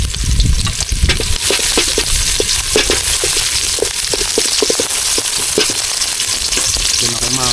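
Garlic and onion fry loudly in a pan, a dense crackling sizzle with rapid popping and spatter, heard up close with no talking.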